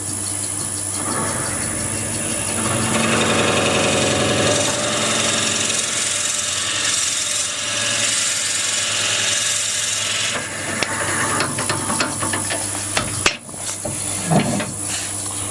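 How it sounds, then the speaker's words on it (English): A cheap electric drill bores a 30mm hole through wood, a loud, continuous motor whine and grinding that holds for most of the clip before loosening into a few knocks and clatters near the end. "You can tell that is a terrible drill."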